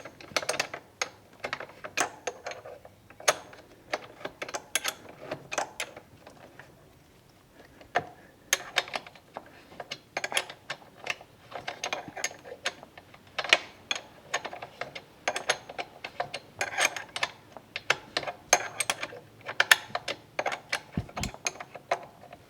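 A wrench works on the wheel of a Kawasaki ZX-6R during a tire swap, ratcheting in scattered bursts of sharp metallic clicks and clatters with short pauses between them, close by and moderately loud.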